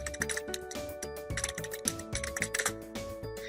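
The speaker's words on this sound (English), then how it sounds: "then type Codeblocks," Rapid typing on a computer keyboard, a steady run of close, crisp key clicks with uneven rhythm, heard alone against a faint background hum.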